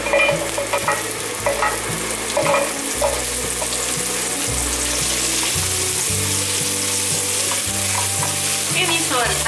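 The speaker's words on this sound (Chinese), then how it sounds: "玉米笋大约略炒一下" Baby corn and slivered ginger stir-fried in a hot wok, a loud continuous sizzle with repeated clacks and scrapes of the spatula tossing the pieces.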